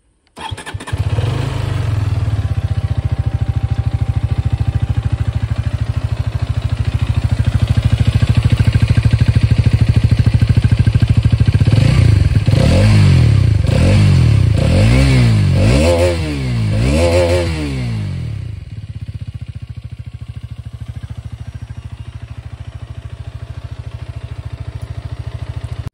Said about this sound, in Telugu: ఇప్పుడైతే ఈ బైక్ ని స్టార్ట్ చేసి సౌండ్ బీట్ ఎలా ఉందో చూద్దాం.